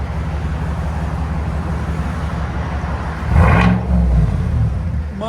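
A 2020 Chevy Silverado with a 6.2L V8 and a Borla Atak crate muffler idles with a steady low rumble, then gives one sharp rev at about three seconds and settles into a louder, throatier idle, close and clear.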